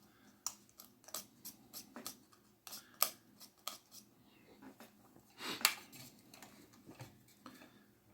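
Repeated short scratching and scraping strokes as coating is scraped off a small 3V solar panel to expose metal for reattaching a wire, close and fairly quiet, in an irregular rhythm with no talk.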